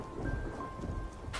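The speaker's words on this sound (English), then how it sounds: "thunder suddenly roars" Thunder rumbles low and heavy over steady rainfall, a continuous wash of rain sound with a deep roll underneath, without any talking.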